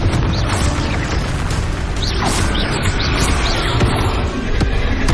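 Confringo spell blasts in the Hogwarts Legacy video game: loud, booming fiery impacts with popping bursts and mechanical clatter, repeating over a few seconds without pause.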